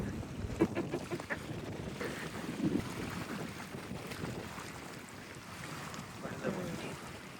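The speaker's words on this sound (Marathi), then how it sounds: "लाटांमुळे ते उडतंय. वारं पण आहे ना खूप." Waves splash at the water's edge while strong wind buffets the microphone, a steady broadband roar with irregular surges throughout.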